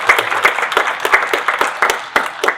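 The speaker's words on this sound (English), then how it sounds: "So give Ben a round of applause." Audience applause at a City of LA homelessness press briefing: dense, steady clapping from a room of people, loud and close, with sharp individual claps standing out throughout and no talk over it.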